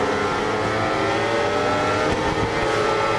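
A racing motorcycle engine in the video game RIDE 4 on the Valencia circuit roars loudly and continuously, holding a steady high-revving drone with slight pitch shifts as the bike pulls hard, with no voices.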